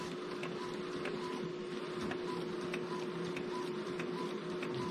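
An Epson EcoTank inkjet printer works through a sticker print job with a faint, steady mechanical hum and light regular ticking of the print head, quiet and without voices.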